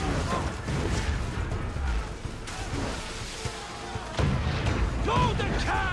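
Ship cannons firing in the naval combat of Assassin's Creed 4, heavy booms and crashes rolling through a dense battle mix with shouting voices over it.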